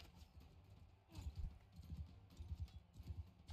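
Horse hooves clip-clopping in the Mount & Blade: Bannerlord video game, a quiet run of rhythmic thuds in quick repeated groups, faint and somewhat distant, with no speech.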